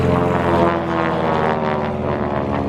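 A North American T-6 with a two-blade propeller taking off, its loud rasping engine drone and harsh buzzing prop tips dominating, steady and close with a slight swell.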